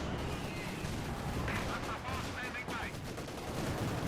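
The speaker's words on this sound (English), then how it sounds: "Can't quite land enough hits though on the Panzer IV with the anti-tank rifles." Anti-tank rifles fire at a Panzer IV in Company of Heroes 2, giving a faint, distant crackle of shots within a dense battle din, with a voice talking over it.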